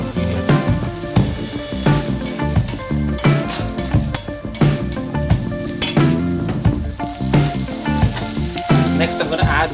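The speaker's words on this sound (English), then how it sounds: "You don't have to brown the onions, just cook it for 30 seconds" Red onion frying in a pan for an instant noodle dish, a loud, dense close sizzle with frequent stirring scrapes and clatter throughout, no voices.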